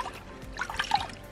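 Water is poured over a dog's back during a bath, heard as a brief, close splashing trickle lasting about a second.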